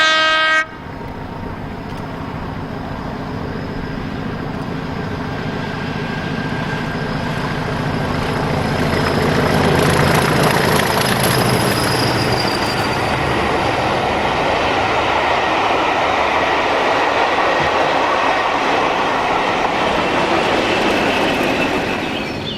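Class 57 diesel locomotive 57006 hauling the Royal Scotsman luxury train toward Stoke Tunnel in July, a loud, steady engine roar building as it passes close by, with train horn tones and rolling wagon noise, no talk.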